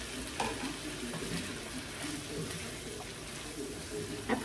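Chicken and broccoli stir fry sizzling in a pan over medium heat, a continuous soft frying hiss with occasional stirring clatters, faint and close.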